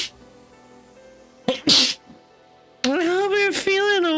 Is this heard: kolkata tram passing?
no